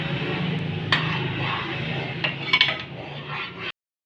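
A spoon stirs sugar syrup in a metal pot, steady scraping and clinking close up with a few sharper taps against the rim, no talk.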